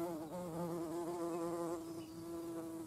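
A queen bumblebee buzzes steadily and close among hardy geranium flowers in an April garden, a continuous droning hum with slight wavering in pitch over about three seconds, no voices.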